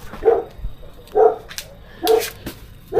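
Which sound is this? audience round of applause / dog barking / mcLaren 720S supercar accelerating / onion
dog barking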